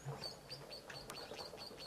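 White-faced whistling ducks call at a waterhole with soft, repeated high whistles. Other birds chirp among them against a busy outdoor background of wildlife sounds.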